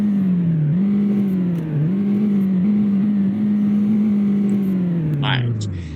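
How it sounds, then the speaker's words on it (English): A 2024 Ford Mustang engine idles with a steady, loud drone, dips and swells slightly, then winds down near the end. "Idle, and then rev."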